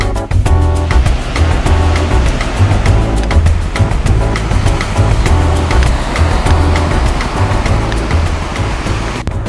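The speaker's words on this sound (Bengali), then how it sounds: "এখানে প্রচুর সমুদ্রের গর্জন শোনা যাচ্ছে।" Heavy sea surf rolls in along Digha beach on the Bay of Bengal, a loud, continuous roar of breaking waves with wind buffeting the microphone throughout.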